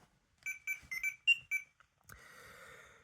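A series of sharp electronic beeps chirps in quick succession, then gives way to a brief burst of static-like electronic noise.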